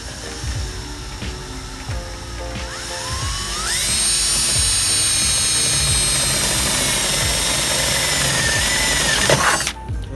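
A power drill bores a hole through a Chevrolet S10 pickup's steel hood for hood pins, a steady, loud high-pitched whine that rises in pitch partway through, then cuts off as the bit breaks through.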